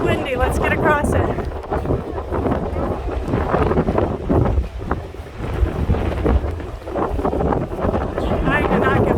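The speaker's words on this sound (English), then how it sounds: "There's so much wind on these overlooks." Strong wind gusting over a roadside overlook on the Appalachian Trail, loud and constantly buffeting the microphone with rumbling roar, while voices talk intermittently beneath it.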